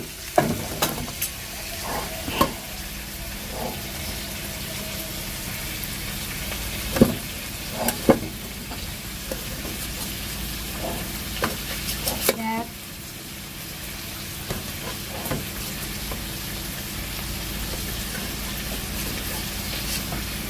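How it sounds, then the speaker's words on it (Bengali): Ingredients for egg dalna fry in a pan until reddish, a steady sizzling bed with sharp clicks and scrapes of stirring at irregular intervals, busier early and calmer later. "এটাকে লাল লাল করে ভেজে নেব"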